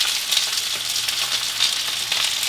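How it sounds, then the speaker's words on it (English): Onions cook in a pan for Southern fried taters, giving off a steady, close sizzle and hiss that holds evenly throughout with no voices. "I'm going to start cooking my onions in another pan here"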